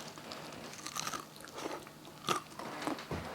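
Crunchy fried chicken bitten into at close range, a few crisp crackling bites and chewing sounds scattered across a few seconds, with no talk.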